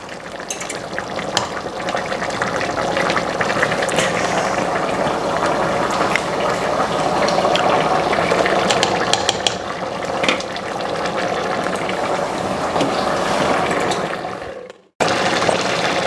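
Egusi soup bubbling and sizzling in a pot on the stove, a dense steady crackle and simmer heard up close and loud throughout, briefly cutting out near the end before resuming.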